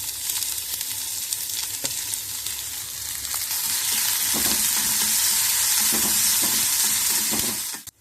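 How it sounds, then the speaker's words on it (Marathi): Onion added to hot oil with fried green chillies for bitter gourd sabzi, sizzling steadily and growing louder as it is stirred, with occasional scraping clatters near the end. "आता कांदा घालते त्याच्यात."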